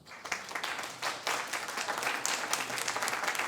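Applause from the audience at a York County Council meeting, a dense, steady burst of many hands that swells after a short start and carries on evenly, somewhat distant in a large room.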